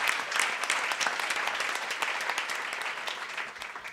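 Audience applause fills the room at a foundation launch evening, a steady, dense wash of many hands clapping at moderate level for about four seconds, fading slightly toward the end.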